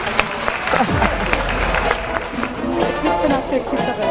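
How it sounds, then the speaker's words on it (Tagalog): Audience at an elementary school dancesport performance applauding and cheering, a broad crowd roar with scattered clapping over a low rumble, while voices carry on underneath. "Wala pong palakpak dyan."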